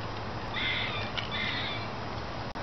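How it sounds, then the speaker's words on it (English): A young bird calls outdoors, giving two drawn-out, high chirping calls over a steady background hiss. The calls are faint and no one speaks. "Seems like I got a little baby bird competing for your attention here."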